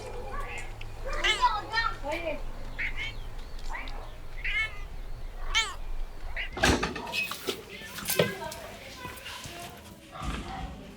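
Cats meowing in a shelter cattery, a few short mewing calls rising out of a busy mix of voices, with a sharp knock or door sound partway through and scattered thuds after.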